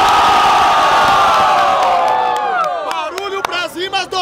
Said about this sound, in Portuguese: Barulho pras rimas do Cante!